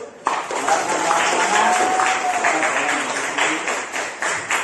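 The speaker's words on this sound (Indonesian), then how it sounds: "Dengan semangat ya, tepuk tangan dulu." Audience applause at an Islamic economics class discussion, a steady broadband clatter of many hands lasting several seconds at moderate, even loudness, with a faint voice underneath.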